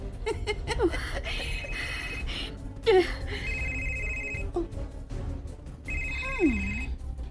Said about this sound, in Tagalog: Nanawag ni Sab si James